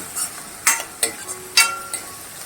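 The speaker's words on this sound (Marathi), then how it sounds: "कांदा चांगला परतून घ्यायचा आहे" Onion with coarse garlic-chilli paste sautéing in a hot pan, a bright crackling sizzle punctuated by three or four distinct stirring scrapes, close and clear with no voices.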